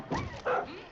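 A dog in the video game Far Cry 5 gives two short, loud barks close by, a brief yelp followed by a second bark, with game sounds underneath.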